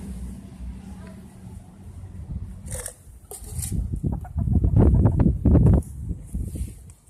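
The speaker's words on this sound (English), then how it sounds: "he's coming. The rooster's coming." A rooster wandering on a city street clucks and calls close by in the open air, its short fowl sounds rising toward the end, with a person talking softly over it and light wind in the background.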